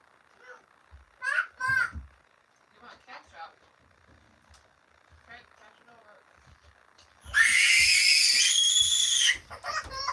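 A young child lets out a loud, sustained high-pitched scream lasting about two seconds near the end, after quieter bursts of household chatter and kids' voices at close range.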